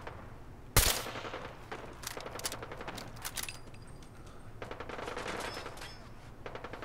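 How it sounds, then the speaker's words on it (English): Sustained gunfire from a firefight in Fallout 4, with a sharp loud shot near the start and then rapid bursts of automatic fire crackling on and off at mid distance throughout. "He's being shot in the back."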